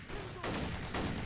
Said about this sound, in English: when I hear gunfire, it's at the right place.